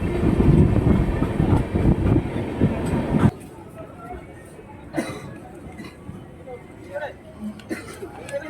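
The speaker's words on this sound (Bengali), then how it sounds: "ট্রেন ঢুকে গেল বেলদা।" The Shalimar–Puri Dhauli Superfast Express pulling into Belda station, heard from on board as a loud rumbling roll that drops away after a few seconds, leaving a quieter cabin with scattered clanks and knocks.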